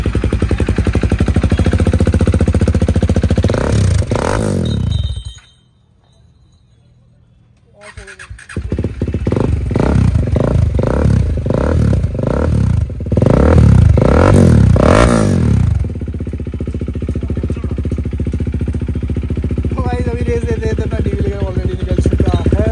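A KTM RC 390 motorcycle fitted with an aftermarket exhaust runs loud and close, cutting out briefly before restarting and idling, with people talking over it throughout.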